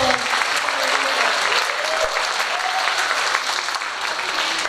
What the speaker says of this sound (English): can we give a big round of applause for all of our schools?